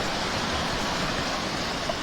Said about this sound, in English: where them waves is breaking, there's a sandbar